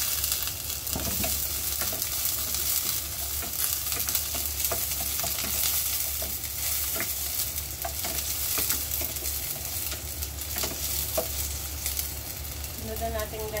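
Chopped garlic and onion sauté in a pan for Filipino bola-bola with cucumber, giving a constant hiss and sizzle broken by scattered clicks of a spoon stirring against the pan.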